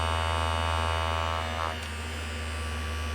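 A battery-powered Avon Anew Clean cleansing brush running, a steady close electric hum with a faint buzzing overtone, continuous and without talk.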